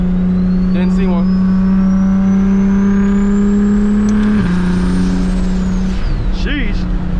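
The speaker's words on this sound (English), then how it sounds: "That turbo flutter goes crazy. Ooh, them downshifts go even crazier." A tuned 600 hp BMW 335is driven through a thunderstorm, its engine holding a loud steady drone inside the cabin, then dropping sharply on a downshift with a fluttering turbo release, while people talk over it.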